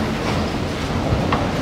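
A São Paulo metro train runs with a loud, steady, broadband rumble throughout, with no voices.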